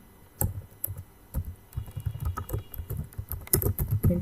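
Rapid clicking keystrokes clatter on a computer keyboard while Java code is entered, an uneven close-up burst of taps with short pauses, no voice over it.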